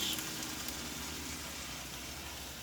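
Coconut cream poured into a hot pan of Thai green curry, a soft steady sizzle and bubbling hiss, faint and close, with no voices.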